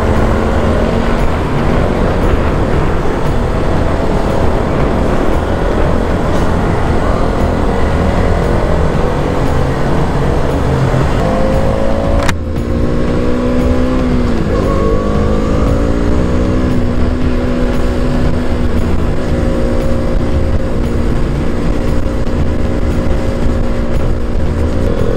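A KTM Duke 200 motorcycle engine on a test ride, a loud continuous drone with the pitch sliding up and down as the revs change, close by with heavy wind noise and no talking.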